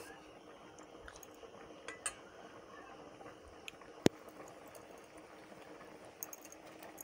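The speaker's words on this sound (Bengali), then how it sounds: "এই যে টকটা ফুটছে" Sour fish curry bubbling in a pot, a low steady simmer with soft bursts and one sharp click near the middle, no talking.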